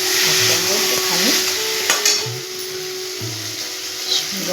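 Prawns frying in a pan with chili paste, a soft steady sizzle with occasional spatula scrapes and stirring clatter, close by.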